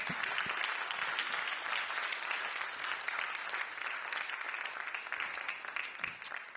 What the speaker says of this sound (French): On peut leur donner une bonne main d'applaudissement